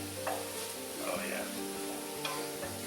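Fresh thyme is stirred into a sizzling pot of homemade chicken noodle soup, a close, steady hiss with spoon scrapes and a couple of sharp taps against the pot.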